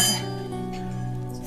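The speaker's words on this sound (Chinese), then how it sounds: "来，我们干杯。" Glasses clink together once in a toast, a bright, close ring at the start that fades into a lingering glassy tone, in a quiet indoor setting.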